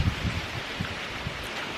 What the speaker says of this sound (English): It is so windy today.